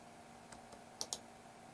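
A computer mouse clicking while selecting and copying in Microsoft Paint on Windows: a few faint, sharp clicks in a quiet room, ending in a quick close pair.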